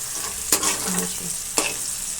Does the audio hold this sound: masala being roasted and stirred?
yes